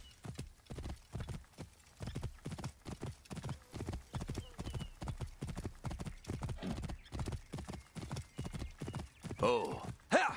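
Horse hooves clip-clop in a steady trotting rhythm in Assassin's Creed Origins, close and clear, ending in a loud neigh at the finish.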